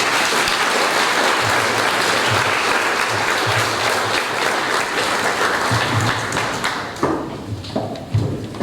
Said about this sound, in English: ladies and gentlemen, a round of applause as they leave the stage